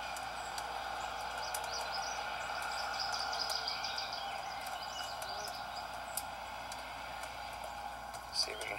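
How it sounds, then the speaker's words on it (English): Faint, distant birdsong chirps scattered over a steady wet outdoor background hiss, recorded on a Sony CCD-TRV58 camcorder, with soft insect-like trilling throughout. "See if we can hear the birds,"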